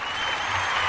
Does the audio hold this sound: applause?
yes